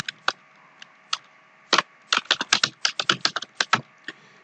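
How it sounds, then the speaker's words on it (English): Fingers type on a computer keyboard up close, sparse single key clicks at first, then a fast irregular burst of crisp taps. "I really hate typing all this every time"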